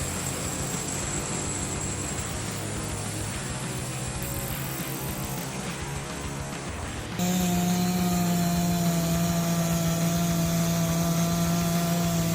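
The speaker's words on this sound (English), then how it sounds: "The high-pitched whirring of the saw echoes through the air, slicing through the wood layer by layer" A sawmill blade cuts through rough logs, a loud steady mechanical whir and grinding that shifts abruptly partway through to a stronger, tonal running hum with a sustained low drone, close and continuous.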